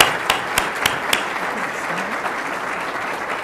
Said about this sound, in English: a round of applause for the wonderful work